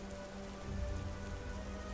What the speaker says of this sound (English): When is it gonna stop raining?